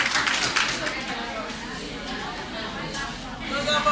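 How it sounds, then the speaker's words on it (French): Audience applause at an NGO gathering, steady clapping from a crowd, moderately loud and close, mixed with chatter and voices talking over it. "Vous le connaissez, on applaudit"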